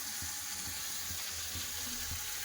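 Chopped tomatoes with ground coriander, turmeric and green chillies sizzling in hot oil in a pan while cooking a fish-head cabbage ghonto, a steady close hiss with soft stirring knocks.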